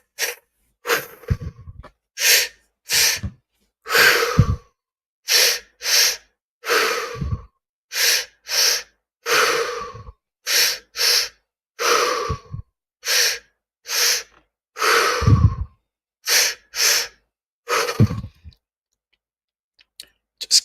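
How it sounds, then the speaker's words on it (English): Deep, deliberate breaths during a breathing exercise, each a loud, close inhale or exhale followed by a short silence, repeat about twenty times in a steady rhythm with no talking. "Just keep breathing."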